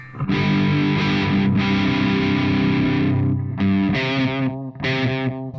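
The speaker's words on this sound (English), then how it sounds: "can you hear that there's distortion on the delay?" Loud electric guitar chords with a delay pedal placed before a distortion pedal, the echoing repeats themselves gritty and distorted, several sustained strums separated by brief gaps.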